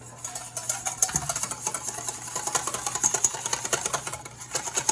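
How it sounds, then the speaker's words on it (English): Whisk beating eggs and lemon in a bowl for béarnaise sauce, quick rhythmic scraping and tapping that continues steadily at close range. "And whisk that together."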